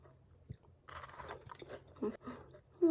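Crunchy bites and chewing on a mugwort scone topped with crumble, a few sharp crackly crunches close to the mic with brief pauses between them.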